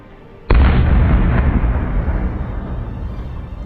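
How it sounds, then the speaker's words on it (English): A watermelon blown apart by the LA Fire Department in a demonstration of illegal firework dangers, heard as one sudden loud blast followed by a long rumbling decay, with no voices. "Ever see a watermelon explode? Well, now you have."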